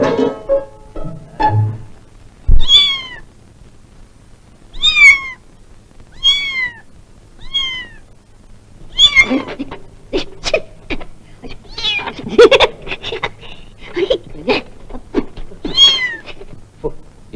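A cat meows repeatedly and loudly up close, a series of distinct rising-falling calls spaced a second or two apart, growing denser toward the end with a few scuffling noises mixed in.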